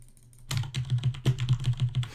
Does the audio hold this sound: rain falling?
no